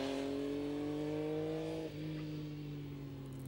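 Triumph Street Triple R motorcycle engine pulls hard with a rising, steady tone, a brief dip as it shifts gear, then climbs again, sounding fairly close and continuous with no talk.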